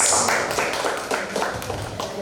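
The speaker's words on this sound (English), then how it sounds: "Big round of applause to all the teachers." A group of teachers at a Linux and GIMP orientation workshop claps for a couple of seconds, a close, fairly dense patter of hand claps with faint voices mixed in.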